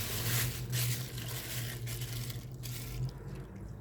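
A 1968 Kohler Wellworth toilet flushes a grocery bag, a steady rushing of water draining through the bowl for several seconds, fairly quiet and close, tapering toward the end.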